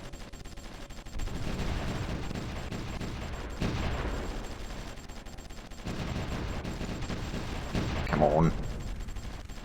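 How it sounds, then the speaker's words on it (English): Artillery bombardment in the Supreme Ruler Ultimate strategy game, heard as dense, sustained rumbling volleys of distant booms under a speaking voice, with a sharper burst near the end. "Now if we can get some nice bombardment from the artillery, which seems to be the case now, that should do quite a bit of damage."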